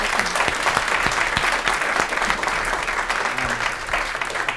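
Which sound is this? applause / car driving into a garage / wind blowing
applause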